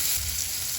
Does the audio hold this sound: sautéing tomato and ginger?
yes